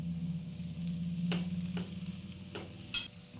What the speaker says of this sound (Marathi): सगळं आपण नूडल्स मिक्स करायचं आहे